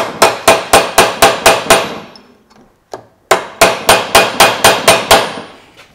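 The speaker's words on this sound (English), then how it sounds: "So we'll hammer that in." A hammer strikes a punch to stake the nut on a Toyota Land Cruiser split-case transfer case, ringing in two rapid runs of about seven sharp metallic blows each, with a brief pause between.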